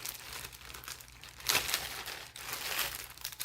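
Small individual plastic bags holding diffuser bottles crinkle and rustle in close, irregular bursts, with a sharper crackle midway and no talking.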